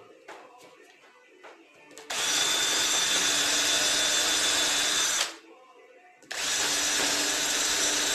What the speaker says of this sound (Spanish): con esta mecha, con avellanador, le voy a dar ahí para que entre el tornillo de la cabeza del tornillo y no raje la madera.